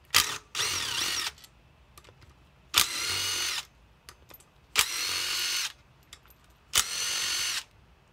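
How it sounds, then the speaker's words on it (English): DeWalt impact driver backing out 10mm sump cover bolts on a Kohler Courage vertical engine, four loud, close bursts of rapid hammering, each about a second long, separated by quiet pauses. "Use my DeWalt Impact."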